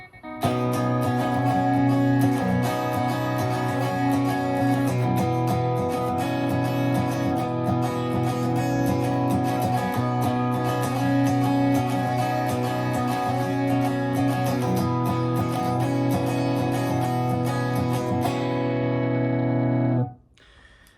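A clean electric guitar plays a sustained, chiming chordal intro, steady ringing notes for about twenty seconds, then stops abruptly.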